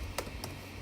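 A couple of quick, faint key taps on a computer keyboard while a prompt is entered, close but quiet against a low hum.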